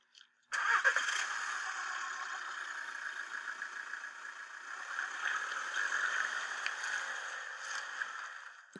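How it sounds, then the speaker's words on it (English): A car engine cranks and catches, then runs at a steady, close idle for several seconds with slight variations in loudness. "Car."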